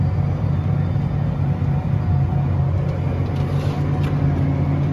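A tractor pulling a chisel plow across a field, a loud steady low engine drone and rumble holding constant throughout with no talk.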